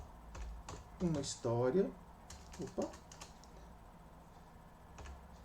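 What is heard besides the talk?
typing on a computer keyboard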